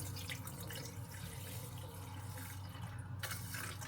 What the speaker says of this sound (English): I'm going to do 450 mil of water in the rice cooker.